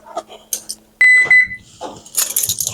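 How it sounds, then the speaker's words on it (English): A kitchen timer goes off while caramel popcorn is being made, a sharp electronic beep ringing out briefly and loudly between bursts of talking and kitchen clatter. "The timer's getting ready to go off."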